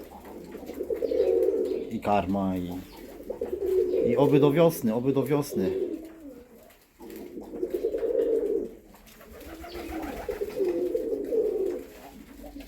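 Fancy and homing pigeons coo in low, rolling bursts throughout, close by in an open loft, while someone talks over them in Polish.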